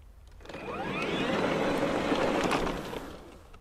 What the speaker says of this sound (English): I'm just activating the throttles and letting them go.